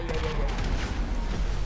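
A bomb explodes amid gunfire during a GTA V Online adversary match in city streets, a dense, continuous rumble of blasts and shots that fills the short moment with loud, unbroken noise.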